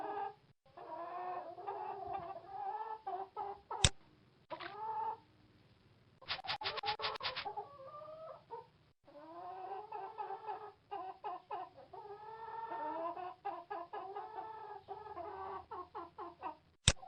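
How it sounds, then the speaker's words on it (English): Chickens cluck and murmur continuously nearby in a farm coop yard, a busy flock of overlapping calls with a burst of scratching in the middle. "Here's where the chickens spend their day, out in the coop yard."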